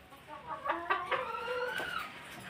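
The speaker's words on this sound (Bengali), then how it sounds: "এইগুলো হলো দেশি মুরগি" Native country chickens cluck close by in a short run of throaty, rhythmic calls, a few hens overlapping with nobody speaking.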